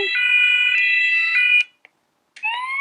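An electronic siren tone from a Playmobil City Action 5363 toy fire truck wails loudly and steadily for a moment, cuts out briefly, then starts again on a rising pitch. A toy-like, tinny sound up close.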